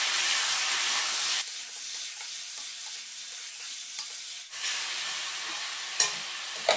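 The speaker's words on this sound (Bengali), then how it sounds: "এখন দিয়ে দিচ্ছি সামান্য পরিমাণে জিরের গুঁড়ো। এটা দিয়ে ভালো করে নেড়ে চেড়ে নিই।" Food frying with a sprinkle of cumin powder being stirred through it gives a loud spitting sizzle that drops to a quieter hiss, then surges again, with a few sharp utensil clicks near the pan.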